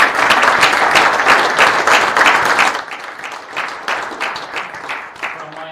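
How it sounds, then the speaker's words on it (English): An audience gives a round of applause at the Australian National Snooker final at the RACV City Club. Dense clapping fills the room at first, then thins to scattered, quieter claps. "a last round of applause"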